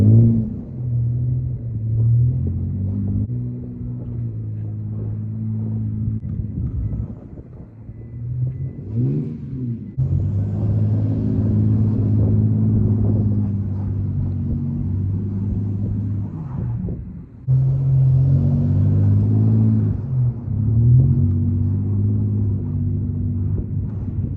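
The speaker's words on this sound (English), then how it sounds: "We slid the truck around." A truck engine rumbles and revs hard as the vehicle slides around, the low droning pitch rising and falling in long sustained pulls with brief drops between, loud and close, no talk.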